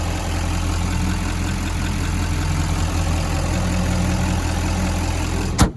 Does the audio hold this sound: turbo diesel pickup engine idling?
yes